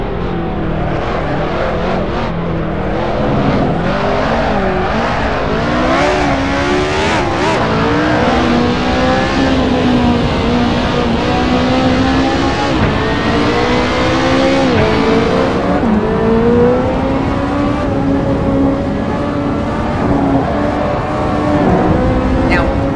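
A race car engine roars continuously in the video game Assetto Corsa, revving up and down through gears, loud and close with no talking.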